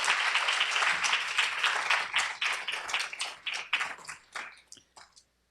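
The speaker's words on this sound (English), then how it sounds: "So please give a round of applause to David." An audience applauds steadily, then the clapping thins out into scattered individual claps and fades to silence.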